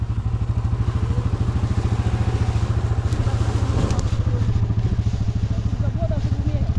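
A Polaris Sportsman 570 or Yamaha Grizzly 700 ATV engine idling as it creeps downhill on the brake without throttle, a steady close low pulsing chug throughout, with people talking over it.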